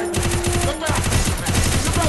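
Rapid automatic gunfire from a competitive shooter video game, loud and continuous bursts of closely spaced shots with a brief gap near the middle.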